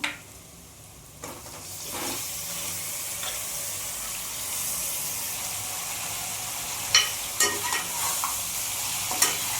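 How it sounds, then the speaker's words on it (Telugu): Mutton head meat fries in oil with onions in a pan, a steady close hiss of frying with a few stirring clinks and scrapes near the end, and no one speaking. "ఇది బాగా ఆయిల్లో ఫ్రై అవ్వాలి."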